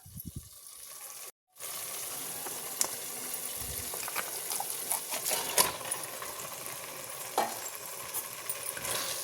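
Marinated chicken in green masala fries in a pan for biryani, a steady moderate sizzle with scattered pops and clanks of stirring after a brief opening clatter.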